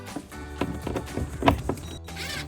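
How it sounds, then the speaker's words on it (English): Short whirring bursts come from a power driver with an 11mm socket as it runs bolts into a plastic air intake box bracket on a RAM 2500, stopping and starting in close, quick pulses. "We're going to use our driver with an 11mm socket."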